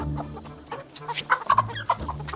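A chicken clucks several times close by, soft irregular bursts of short throaty calls.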